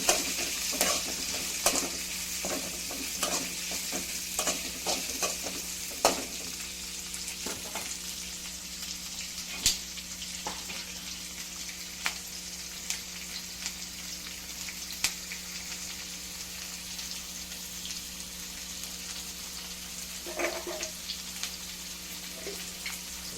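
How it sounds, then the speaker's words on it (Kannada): Chopped onion fries in a pan for a local-style cabbage palya, a constant moderate sizzle punctuated by regular stirring clinks and scrapes, heard close up with no talking. "ಈರುಳ್ಳಿ ಹಾಕ್ಕೊಂಡು ಫ್ರೈ ಮಾಡ್ಕೋಬೇಕು"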